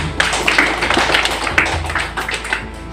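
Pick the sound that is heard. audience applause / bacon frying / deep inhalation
audience applause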